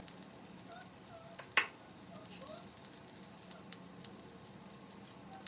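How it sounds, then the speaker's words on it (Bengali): Pointed gourds fry in oil, a faint, steady sizzle with scattered soft pops and one sharp clack partway through. "পটলগুলো এবার তেলে ভেজে নেব।"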